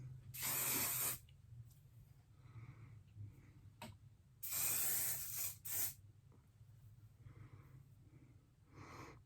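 Two loud hissing bursts of a moisturizing frizz-fighting hair spray, each about a second long and a few seconds apart, are sprayed onto clean, blow-dried straight hair, with faint quiet handling between them.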